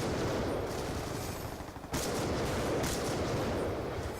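Nuketown 2025 sniper-versus-commando gameplay delivers dense, loud video game gunfire and explosion noise that fills the whole stretch, with a brief dip in the middle before another sharp shot bursts back in.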